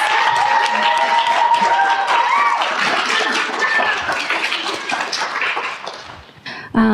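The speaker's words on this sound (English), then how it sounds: "Let's give a round of applause." Audience applause fills the hall at a state poetry recitation competition final, a dense sustained round of clapping that holds steady and tapers toward the end, with some crowd murmur mixed in.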